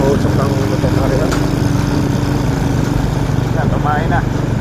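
Smoky motorcycle engine idling close by, a steady low chugging drone running throughout while people talk over it.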